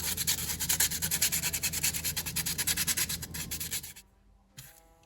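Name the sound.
sanding rough edges of a wooden ornament with 100-grit sandpaper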